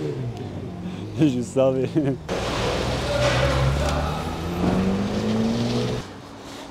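A BMW E36 accelerates past at a car scrapyard, its engine note rising steadily and loudly for several seconds after a short burst of talk, with road noise around it.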